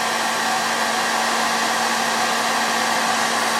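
A hair dryer blows steadily and loudly on nail wraps throughout, a constant whooshing roar with a faint motor whine, no voices.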